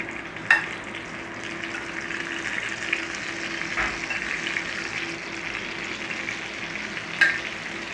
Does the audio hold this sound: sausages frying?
yes